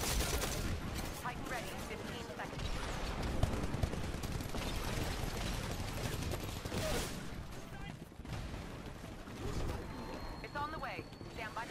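Carbine gunfire in the shooter game Titanfall, bursts of rapid shots and mechanical clatter packed across the whole stretch, with a voice talking over the busy battle noise.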